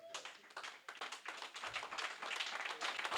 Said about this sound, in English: We want to give you a round of applause.